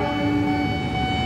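Train horn sounding loud and steady near the Kota–Tanjung Priok railway line in Jakarta, a sustained multi-tone blast running the whole moment alongside rumbling rail noise.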